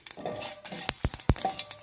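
Crackling sizzle of curry leaves and pepper tempering in hot oil for rasam, with a few sharp pops and bursts of spatter standing out, close and fairly loud, no talking.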